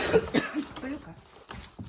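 A person coughs several times in short, rough bursts, close by, with some throat clearing and low background noise.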